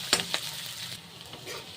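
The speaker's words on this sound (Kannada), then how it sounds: "ಸ್ವಲ್ಪ ಫ್ರೈ ಮಾಡ್ಕೊಳ್ಳೋಣ ಈರುಳ್ಳಿನ" Onions and green chillies frying in hot oil in a pan while making Maggi noodles with vegetables, a soft steady sizzle with a couple of sharp stirring clicks near the start.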